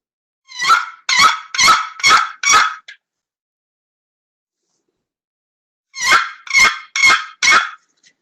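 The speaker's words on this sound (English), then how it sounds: "And that's a yelp. And that'll call in birds." Two bursts of loud, raspy yelps from a turkey box call, five then four notes in quick rhythm, separated by silence.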